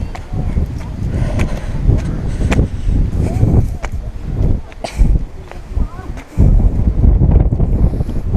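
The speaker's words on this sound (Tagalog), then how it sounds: "Sobrang lamig dito sa taas. At napakalakas na hangin." Strong, cold gusts of wind on a high hillside by a banana plantation batter the microphone in rough, uneven bursts, with brief lulls between them and a voice speaking faintly underneath.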